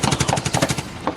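A rapid burst of machine-gun fire rattles in quick, evenly spaced shots, loud and close, ending in a last isolated shot.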